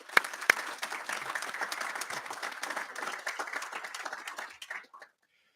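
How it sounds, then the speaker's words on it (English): Steady audience applause at a seafood industry summit session, a crowd clapping continuously for about five seconds before cutting off abruptly, with a couple of sharper claps near the start. "Could we just give them a round of applause"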